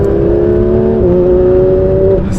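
A Porsche 911 992 GT3 RS engine pulls hard with a loud, steady drone that climbs in pitch. There is a brief dip near the middle, like a gear change, then it keeps rising before easing off at the end.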